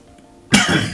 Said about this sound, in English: I've got a little bit of a cough going on.